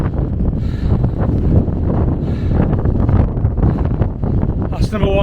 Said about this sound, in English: I've got the wind pushing me up the hill